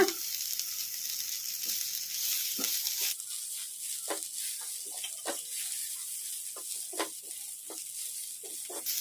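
White sesame seeds and young fenugreek leaves fry in a pan for a tomato chutney, a steady close sizzle with intermittent scraping stirs and clicks of a spoon, no voices.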